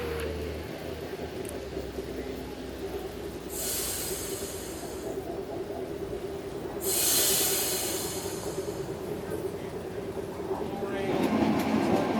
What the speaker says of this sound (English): These were designed to be small, light trolley cars so that they could be operated by also only 1 person.